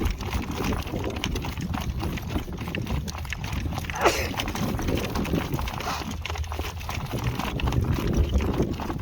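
A horse's hooves strike the ground in a working trot, a steady rhythmic clip-clop that stays close and clear over rough, gusty background noise.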